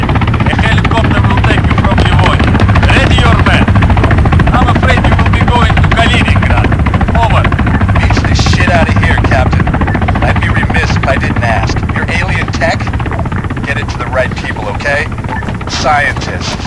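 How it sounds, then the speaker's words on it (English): A helicopter flies in the Arma 3 military game, its steady, loud rotor and engine drone filling the whole stretch, with game dialogue and ambient battlefield noise mixed underneath. "A helicopter will take you from Levon"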